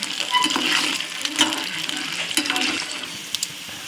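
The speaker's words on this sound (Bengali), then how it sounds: "আমরা ভালো করে ভেজে নিচ্ছি।" Chopped onions fry in mustard oil, giving a close, moderate sizzle broken by clattering stirs and scrapes of a utensil in the pan, with no talk.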